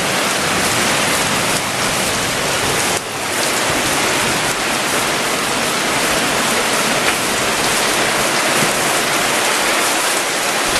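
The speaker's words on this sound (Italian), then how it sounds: "Queste sono le immagini appunto del nubifragio che ha flagellato Padova verso le tre" Heavy rain pouring down in a cloudburst over Padova, with hail and wind mentioned, a loud, dense, continuous hiss of water with no voices.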